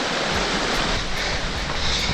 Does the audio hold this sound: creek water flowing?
yes